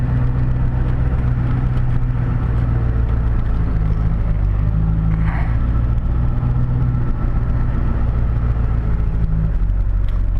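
A Duramax diesel pickup with engine blow-by drives along, its low, steady engine drone and road rumble filling the cabin without pause and with no talking.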